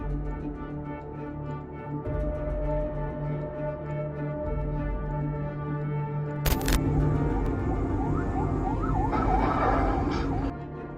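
An ambulance siren wails over steady traffic rumble at an intersection, its rising and falling tone growing more prominent partway through, with a brief sharp burst near the middle.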